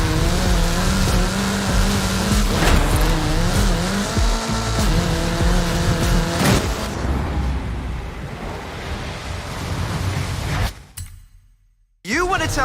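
A car in Forza Horizon 5 drives at speed, its engine revving and shifting through gears with tire noise and a rushing roar under talking voices, before fading away near the end.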